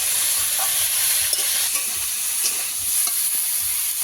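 Spices and ginger paste sautéing in a pan, a constant close frying hiss with occasional spatula taps and light scrapes.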